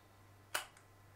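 The cocking lever of a Smena 8 35mm manual film camera makes a single quiet mechanical click, followed by a fainter second tick, against a low steady hum in a quiet room.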